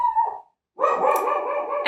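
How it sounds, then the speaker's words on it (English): A dog barks indoors: one short bark, a brief pause, then a longer sustained bark or howl-like yelp, close and clear with no speech. "barking at something"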